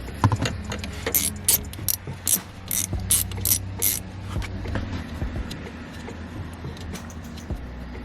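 A hand ratchet undoes a small 8mm bolt on a Ford Ranger car seat. Rapid, close clicking comes in quick bursts and then slows to a few scattered clicks.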